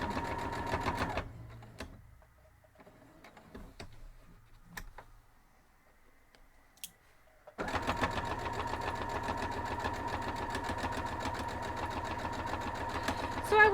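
A sewing machine stitching fabric holiday coasters, a steady fast mechanical whir that starts, stops for several seconds of near quiet with small clicks, then runs again continuously at moderate volume.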